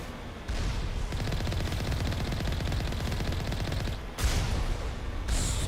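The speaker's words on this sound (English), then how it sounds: "Why are they already firing?" Enemy gunfire in Mass Effect comes as sustained rapid automatic bursts, loud and dense. The rattle breaks off briefly and then resumes with heavy blasts, and nobody talks.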